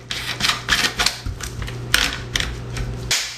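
Cap being screwed back onto the magazine tube of a Benelli Super 90 shotgun, close scraping and ratcheting clicks in short bursts over a low background hum.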